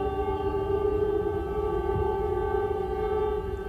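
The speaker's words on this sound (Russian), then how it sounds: "По всей стране раздается вой сирен" A civil defense siren sounds across Israel on its memorial day: one loud, steady, sustained wail with a flat pitch and no voices.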